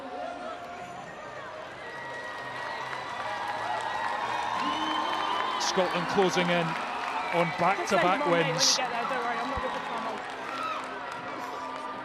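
Stadium crowd at a Scotland versus Ireland women's Six Nations rugby match, swelling into cheers, whoops and applause that build toward the middle, with a commentator talking over the top.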